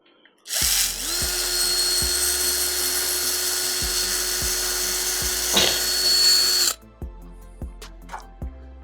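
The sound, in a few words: electric drill pre-drilling a hole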